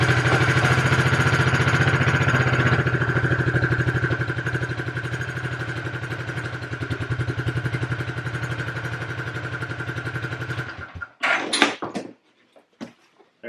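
A cold Suzuki King Quad 300 ATV runs on choke with a loud, steady, throbbing engine note that fades slightly, then cuts out abruptly. A few hard clunks and knocks follow in near silence.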